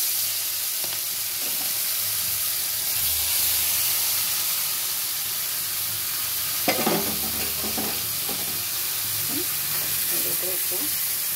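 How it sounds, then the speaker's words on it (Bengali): Batter dropped bit by bit into hot oil sizzles and hisses steadily up close, with a few sharper crackles and spatters partway through and no talking. "এখন তেল গরম হয়ে গেছে, এখন একটু একটু করে দিয়ে দেবো এখানে।"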